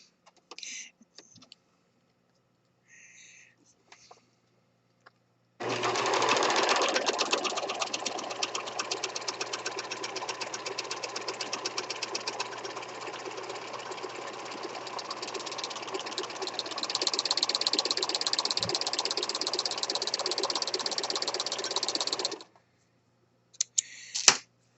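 A serger sews a very narrow seam allowance in one long steady whirring run of about seventeen seconds, close and even. A few faint clicks and handling sounds come before and after the run.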